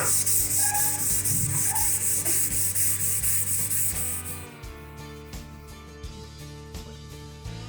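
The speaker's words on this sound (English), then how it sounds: "I will first try this multi-oil, basically WD-30, and when try to sand it off" Sanding rust off the metal of a vintage bandsaw after applying multi-oil, a dense rhythmic abrasive rubbing that is loud and continuous at first, then breaks into shorter, repeated strokes.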